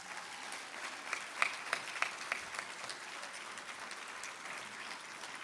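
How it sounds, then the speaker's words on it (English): Steady applause from an audience at a classical Indian dance debut recital, many hands clapping continuously, with a few sharper claps standing out near the start. "with best wishes and a round of applause, let us invite on stage Sriya Duggirala."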